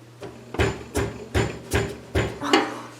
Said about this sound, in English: take a screwdriver and a hammer